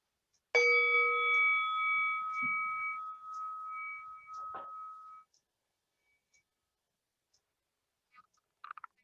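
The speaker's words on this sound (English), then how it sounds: "Letting the sound of that bell invite us inward." A single bright meditation bell strike rings out clearly and slowly fades over several seconds, followed by quiet and a few faint clicks.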